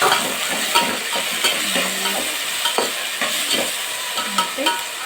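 Onions and tomatoes fry in a pan for a fish curry, giving a continuous close sizzle with repeated stirring scrapes and clinks throughout, and no voices.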